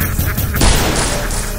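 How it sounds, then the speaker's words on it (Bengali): A gunshot sound effect from a Bengali audio horror story: a loud, close blast that bursts out and rumbles away over about a second. "আমি বন্দুকের ঘোড়া টিপলুম"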